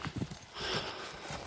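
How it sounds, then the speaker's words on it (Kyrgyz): Hooves of a black Danchak-breed horse clip-clopping close by in a short burst of a few thuds, followed by a broad rush of noise, with no talking. "Азыр бүгүнкү тартыла турган жакшы жылкылар Данчак породасындагы кара байырлар тартылат"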